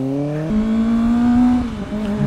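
Motorcycle engine revving loudly up close, a steady drone that climbs in pitch and holds before dropping back toward idle, with no talk over it.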